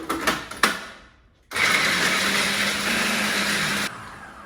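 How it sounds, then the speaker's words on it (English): A kitchen blender blitzes walnuts, chili and garlic for a cilantro pesto, a loud steady whirring burst of a couple of seconds after a few clunks and a short pause, then cutting lower. "Allowing the walnuts, the chili and the garlic to blitz to a consistency of coarse crumbs"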